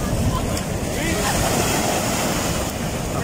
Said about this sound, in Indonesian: Ini namanya Pantai Sari. Sadranan.